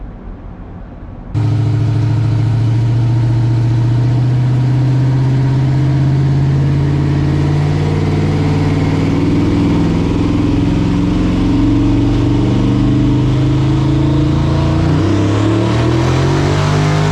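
A 1000HP Ford Ranger street truck's engine fires up on the dyno after a brief quiet moment, then holds a loud, steady droning run that rises in pitch toward the end.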